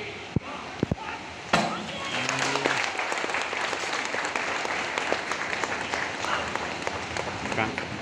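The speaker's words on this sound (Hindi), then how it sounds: "तालियां जरूर बजाइएगा।" Audience applause at a BSF Raising Day celebration after a tubelight-breaking karate demonstration, a sustained dense patter of clapping that follows a few sharp cracks and runs on steadily at moderate distance, with faint voices mixed in.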